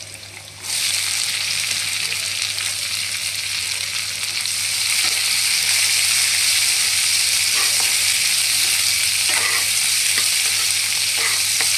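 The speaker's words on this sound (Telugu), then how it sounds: "ఇప్పుడు ఆనియన్స్ వేసుకోవాలి." Onions and garlic frying in a pan give a loud, steady sizzle that starts abruptly and continues throughout, with faint stirring scrapes near the end.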